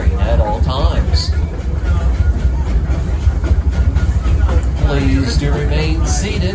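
The Six Flags Over Texas amusement park train rumbles and clatters along over a loud, steady low roar, with an announcer talking over the ride noise much of the time.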